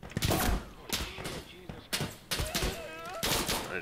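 Gunfire in the game Insurgency: Sandstorm crackles in several loud, sharp shots and short bursts spread across the moment, mixed with someone talking over them.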